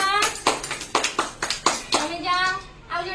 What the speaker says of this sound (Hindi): वेरी गुड ताली मारो